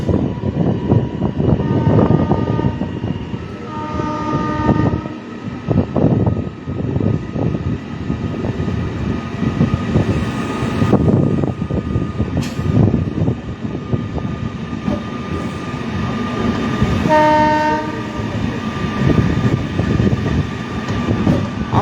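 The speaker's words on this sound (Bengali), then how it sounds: "Kamakhya Krishnanagar ইনাগোলা special EMO train চলেছে বন্ধুরা কৃষ্ণনগরের উদ্দেশ্যে" A Kamakhya–Krishnanagar special EMU train runs close by with a steady, loud rumble and wheel clatter, and brief tonal horn-like notes sound twice along the way.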